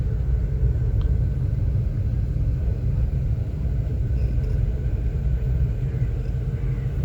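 Steady low rumble of a car being driven slowly on a road during a first-day driving lesson, loud and continuous throughout with a faint tick or two above it.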